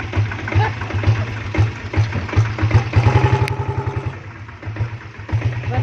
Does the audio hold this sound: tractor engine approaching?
yes